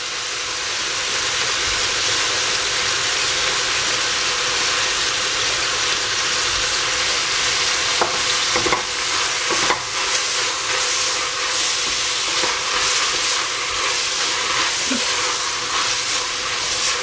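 Carrot, celery and capsicum frying in a pan while being stirred, a steady loud sizzling hiss throughout with occasional faint scraping clicks, close and without talk.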